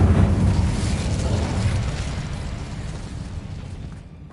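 Incendio fire spell cast during combat in Hogwarts Legacy, a loud roaring burst of flame with deep rumbling body that gradually fades over several seconds, with no talk.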